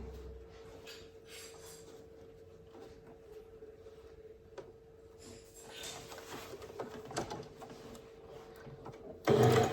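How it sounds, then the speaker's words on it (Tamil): Sewing machine stitching a folded hem on a garment sleeve, a steady mechanical hum running close and continuous, with a louder burst of clatter near the end. "கைப்பகுதியில் மடித்து அழகாக தைப்போம்"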